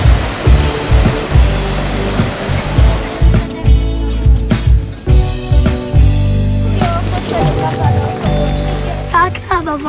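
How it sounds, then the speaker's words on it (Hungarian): A waterfall in a forest setting gives a loud, continuous rush of falling water with uneven surges, heard close up and alone. "Nagyon tetszik ez a vízesés."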